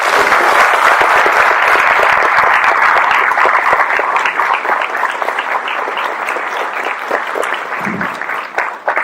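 Sustained applause from a lecture audience fills the hall, dense and steady for several seconds before gradually thinning toward the end.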